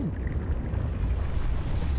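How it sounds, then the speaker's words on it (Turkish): An explosion in the lava biome of the video game Subnautica comes through as a deep, continuous, booming rumble, fairly loud and with no voices over it. "Adam nasıl bir patlama gerçekleştirdi?"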